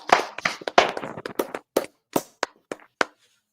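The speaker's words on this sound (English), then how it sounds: "Round of applause, man. Round of applause." A small round of applause from a few people: dense clapping at first that thins into sparse, separate claps spaced farther apart until it stops.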